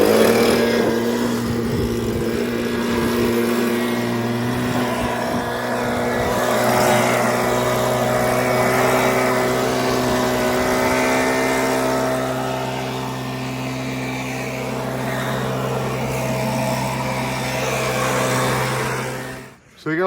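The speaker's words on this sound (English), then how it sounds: "This is why you bring up the leaf blower." Leaf blower clearing debris off a roof during ridge vent installation, a loud steady droning whine held for the full length with slight swells in intensity, with faint voices in the background.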